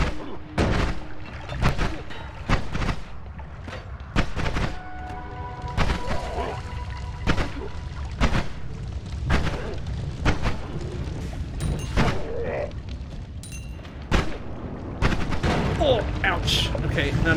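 Repeated explosions in the video game Noita, a string of sharp booming blasts and crackling bursts spread irregularly throughout, close and loud, with a voice talking between them.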